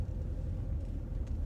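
Steady low road rumble inside a moving car, a continuous engine and tyre drone with no other distinct sounds and no speech.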